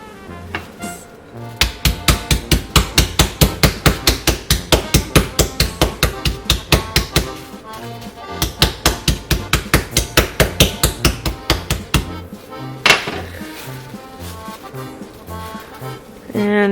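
Pork is pounded to quarter-inch thickness on a kitchen countertop in long runs of rapid, loud, evenly spaced thuds. Brief pauses separate the runs, and a few louder single blows follow near the end.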